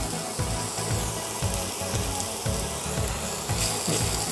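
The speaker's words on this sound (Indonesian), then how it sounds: "Ini kita tumis dulu sampai" Spices for sambal goreng daging sauté in a hot pan, a dense, loud, continuous sizzle and crackle with a rhythmic low thudding of stirring roughly every half second.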